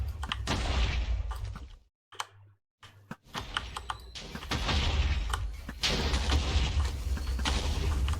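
Explosive weapon shots fired in a space-combat video game, with dense crackling bursts and booming blasts that drop out briefly midway, then resume in a loud, continuous barrage.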